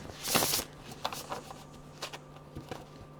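Close riffling and shuffling of a deck of tarot cards, a burst of flicking followed by softer intermittent slides and taps.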